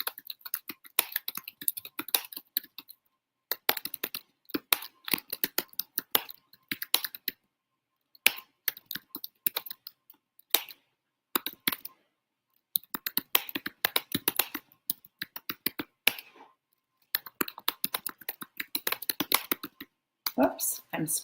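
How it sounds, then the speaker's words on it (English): Quick bursts of clicky keystrokes on a computer keyboard at a home desk, coming in uneven runs separated by short pauses, close and fairly quiet, with a person talking at times during the typing. "I'm typing"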